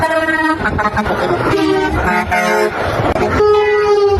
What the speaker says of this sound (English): so many people have been going by honking, giving us their fists.